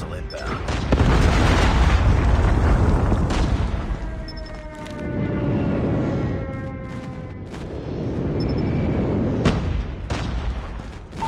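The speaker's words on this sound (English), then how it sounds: "Friendly airstrike incoming." Airstrike explosions in the Call of Duty Mobile video game roll out as heavy booming blasts in loud waves, with sharp cracks and game effects layered over them.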